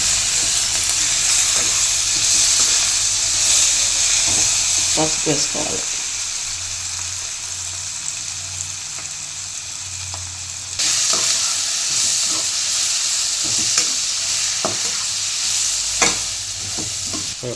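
Onions fry in a pan for puri curry with a continuous loud sizzle and occasional stirring scrapes, while someone talks briefly over it.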